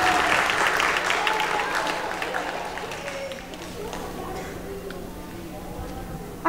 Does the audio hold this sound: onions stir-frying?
no